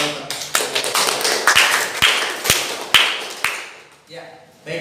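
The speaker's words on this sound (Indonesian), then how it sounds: "Dan untuk yang tadi barusan kita berikan tepuk tangan dulu." A small class claps during a language-practice lesson, with sharp, uneven individual claps standing out over a busy room murmur and a voice near the end.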